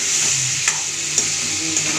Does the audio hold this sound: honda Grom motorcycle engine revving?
no